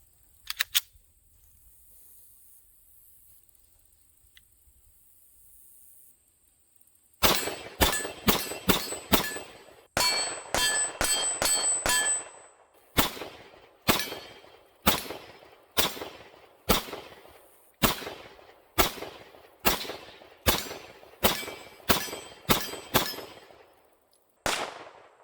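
Gunshots from a 9mm Smith & Wesson M&P 9 2.0 pistol in a CAA MCK chassis, fired with brass and steel-case ammunition at AR500 steel targets outdoors: a long run of sharp, loud reports in a steady rhythm after a single early shot and a quiet pause.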